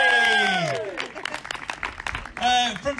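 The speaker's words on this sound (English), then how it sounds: "Round of applause for Phoebe." A live event crowd gives a round of applause and cheers for a local performer named Phoebe, the clapping swelling under and between an MC's amplified talk and fading out near the end.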